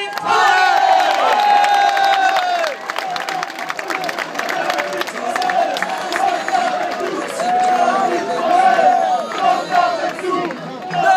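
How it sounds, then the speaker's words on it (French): A fan-day crowd applauds and cheers football player number 10 at an open-house event, a loud, steady wash of clapping and shouting voices that holds for several seconds with small swells. "Applaudissons notre numéro 10, David."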